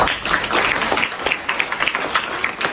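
Audience clapping during an environmental awareness campaign talk, a dense burst of many hands applauding steadily for about three seconds, loud and close with no talk over it.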